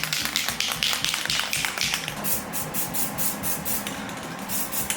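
A spray can of grill paint coating a rebuilt Z-bar pivot on a 1965 Mustang, heard close as a run of short, rhythmic hissing spurts with sharp tapping rattles between them.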